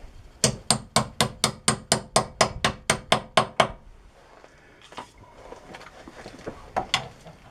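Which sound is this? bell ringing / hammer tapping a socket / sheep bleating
hammer tapping a socket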